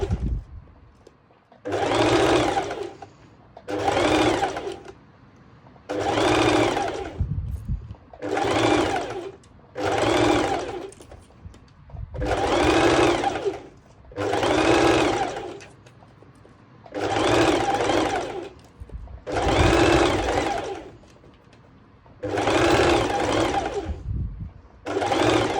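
A sewing machine stitches fabric for a ruched skirt in repeated bursts of a second or two each, with short pauses between runs, close and steady, and no talking.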